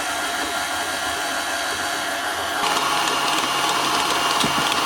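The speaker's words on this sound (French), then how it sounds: "je mets le tout dans un robot et je vais pétrir pendant environ 5 à 6 minutes" A stand mixer kneads beignet dough with a loud, constant motor whir. Partway through, the pitch shifts and turns harsher and slightly louder, and faint knocks sound under it.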